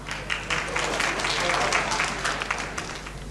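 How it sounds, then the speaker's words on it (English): An audience at a school inter-class English debate claps for the debaters, a dense, sustained round of applause filling the room, with voices mixed in underneath. "let's give a big round of applause to both the debaters and POI people over here on stage"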